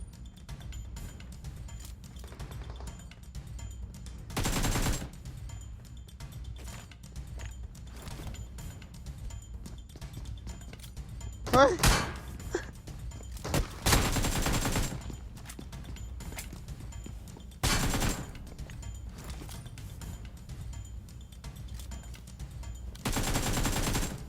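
Shotgun blasts in the mobile battle-royale game PUBG Mobile: loud, separate booming bursts spaced several seconds apart over a low mechanical background hum, with no voices.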